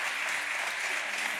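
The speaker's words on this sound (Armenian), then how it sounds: "ծափահարություններով եւս մեկ անգամ ողջևորենք մեր մասնակիցներին" A studio audience at the Armenian film quiz show Kino-kino applauds the participants, a brief, even wash of dense clapping heard at moderate distance.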